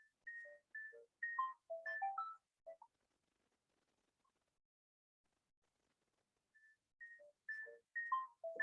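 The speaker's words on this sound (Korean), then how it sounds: "태영이 엄마가 전화 왔다." A phone rings with an incoming call, playing a short melodic ringtone phrase of quick tonal notes, pausing in near silence for several seconds, then repeating the phrase, clear and close with no talk.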